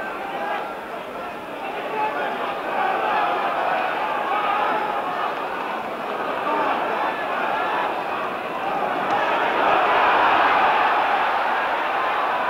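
Wembley boxing crowd roaring in support of Bodell, a dense, continuous swell of cheering and chatter that builds louder toward the end, with a commentator talking over it.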